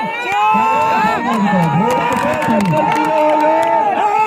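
Crowd cheering and shouting at the final round of a horse race in a Jaunpur village, a loud continuous mass of voices with whoops rising and falling throughout, with no clear single speaker.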